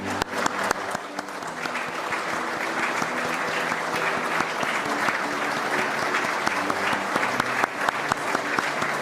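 Sustained, dense applause from a large crowd at a cabinet swearing-in ceremony, steady and loud throughout with occasional sharper claps near the front.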